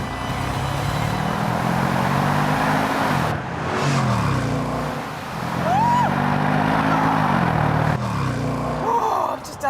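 A Jaguar with a 3.8-litre straight-six engine accelerates hard, its loud, close engine note climbing through the gears with brief dips at each shift, while a voice speaks over it.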